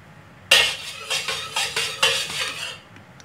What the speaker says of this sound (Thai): ตั้งกระทะใส่น้ำมันลงไปเลยค่ะ